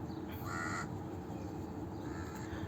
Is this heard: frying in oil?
no